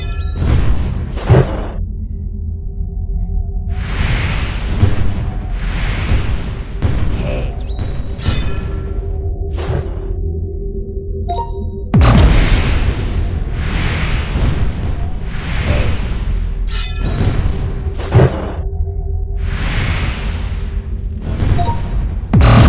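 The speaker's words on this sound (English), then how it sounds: "simply shooting fireballs like this" Fireballs cast in the hand-tracked VR fantasy game Drakheir, a run of repeated whooshing, roaring blasts, each lasting a second or so, separated by short quiet gaps, loud and close, with a low hum underneath.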